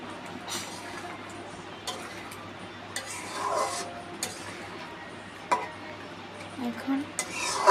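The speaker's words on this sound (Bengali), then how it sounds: "মাছগুলো দিয়ে দিতে হবে, দিয়ে নাড়াচাড়া করতে হবে।" A utensil stirs fish in a cooking pan, making soft scraping and occasional light clinks close by over a quiet background sizzle.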